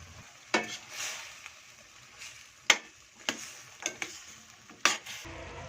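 Chicken curry simmers gently in a pan while a spoon stirs it, giving a soft bubbling bed broken by several sharp, separate scrapes and knocks against the pan.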